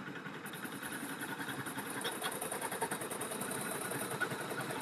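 An embroidery machine double-stitches a design onto a baby onesie, its steady fast needle chatter and motor hum running continuously at moderate volume.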